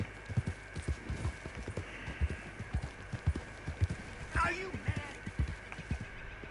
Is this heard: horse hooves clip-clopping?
yes